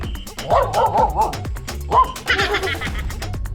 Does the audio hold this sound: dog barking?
yes